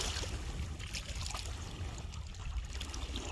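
Dam water in Sindh gushing out into channels, a steady broad rush and trickle of flowing water, close and continuous without pause, with no talking.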